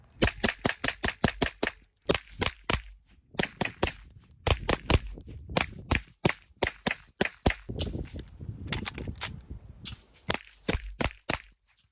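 A rapid mag dump from an MP5 fires through a HuxWrx Flow 9K TI titanium suppressor, the muffled cracks coming in quick bursts of shots separated by brief pauses, close and sharp.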